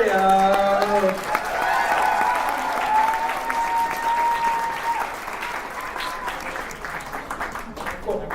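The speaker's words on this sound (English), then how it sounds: "Give her another round of applause for Freya" Audience applause at a 2019 dance competition, a sustained burst of clapping from a crowd that gradually thins out, with a voice speaking over the start.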